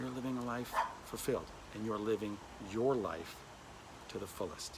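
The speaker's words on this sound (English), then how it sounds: "You can hear my dog" A dog barks and yips several times in short bursts, close by, interleaved with and partly under a person talking steadily.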